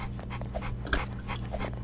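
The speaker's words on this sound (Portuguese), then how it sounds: "tem um cachorro ali!" Dog sound in the Roblox game Mad City, a short whimpering bark heard a few times over continuous game background noise, moderately near.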